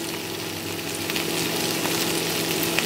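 Eggplant and tomato fry in oil in a pan with a steady, bright sizzle that holds evenly and close throughout, with no voices.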